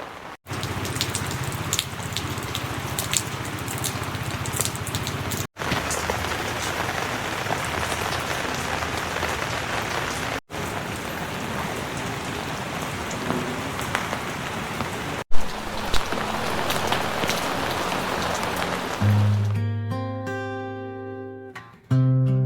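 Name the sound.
rain falling at a villa at night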